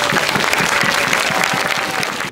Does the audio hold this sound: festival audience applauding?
yes